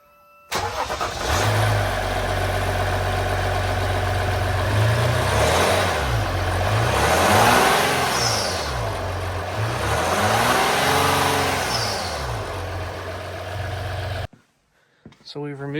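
A Ram 1500 EcoDiesel pickup's stock engine starts and idles with a deep rumble, then revs up and down several times in rising and falling swells before cutting off.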